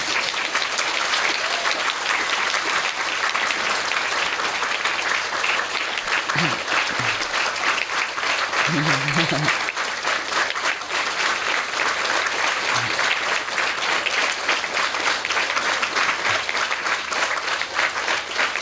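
Sustained audience clapping at a spiritual talk, dense and even for nearly twenty seconds, with a few brief murmurs of voices surfacing partway through.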